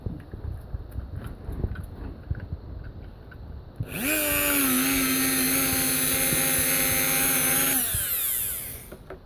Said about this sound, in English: This time I'm going to drill all the way through, and it's basically a drain hole.